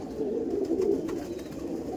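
An Andhra Madrasi pigeon coos close and steadily, a continuous low throaty burble with faint rustling behind it.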